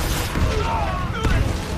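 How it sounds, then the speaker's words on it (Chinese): Rocket artillery in a war film, Katyusha launchers bombarding enemy positions, giving a dense, continuous rumble of overlapping booms and blasts across a short burst, with a muffled voice faintly beneath. "当大反击的火箭炮摧枯拉朽地轰炸在敌人的阵地上时"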